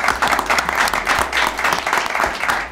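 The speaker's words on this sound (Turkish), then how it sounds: "Alkışlarla tebrik ediyoruz." A crowd applauds the winners of a competition, dense, steady clapping that holds close and loud through the whole stretch.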